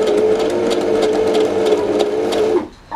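A sewing machine stitches a ribbon teether at close range, a fast, steady mechanical whir with rhythmic clicking that runs for over two seconds and then abruptly stops.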